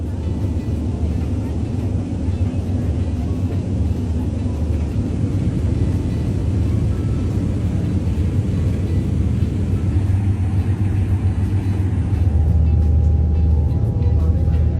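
A boat running at about 45 km per hour gives a loud, steady engine drone with rushing water, unbroken for the whole stretch and swelling slightly toward the end.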